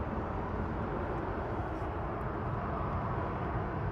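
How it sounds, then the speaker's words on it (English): An EasyJet airliner departs Manchester Airport, heard as a faint, steady, distant jet roar that stays even throughout with no other sounds on top. "EasyJet to Prague, GUZ LS departing in the background"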